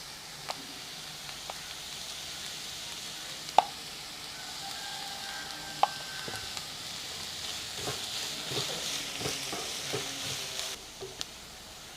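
Sliced onions with a pinch of salt sautéing in a pan toward golden brown, a soft, low hiss with scattered light clicks and taps from stirring, fairly faint and continuous.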